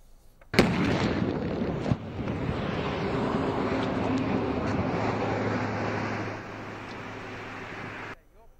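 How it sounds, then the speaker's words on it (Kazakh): An explosion at a military ammunition depot near Sarykemer village outside Taraz, Zhambyl region, bursts in with a sudden loud boom, then a heavy, rumbling roar lasts about seven seconds before cutting off. "Тараз қаласының жанында тағы да жарылыс болды."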